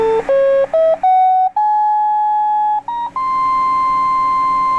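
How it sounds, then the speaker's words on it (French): A Citizen MPL-5 CB radio in upper sideband gives out a loud, steady test tone. Its pitch steps upward in several discrete jumps before holding one long tone, with no voices. "Je vais monter la fréquence et on devrait entendre une tonalité, bien sûr, parce qu'on va entrer dans la bande passante du filtre"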